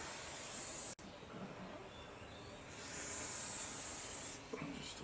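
Oil sprayed onto a rifle in long, close hissing bursts, with a brief gap near the start and a second spray starting toward the end.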